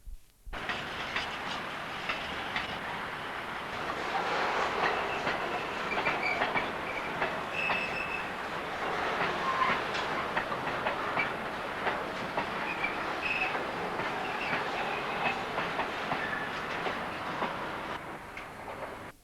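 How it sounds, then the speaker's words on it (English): Diesel shunter locomotive hauling a mixed freight consist through port sidings at Immingham, with a steady rolling rumble of wagons, wheel clicks and occasional faint squeals sustained throughout, no speech. "a diesel shunter pulls a mixed consist, probably from Immingham reception sidings"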